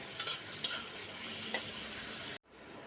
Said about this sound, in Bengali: এবার পেঁয়াজটাকে হালকা হতে দেবো। তার আগে আমি অল্প একটু এর মধ্যে নুন দিয়ে দিচ্ছি